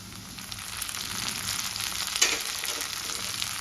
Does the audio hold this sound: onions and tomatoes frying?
yes